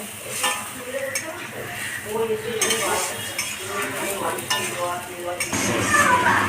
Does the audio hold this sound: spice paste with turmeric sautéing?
yes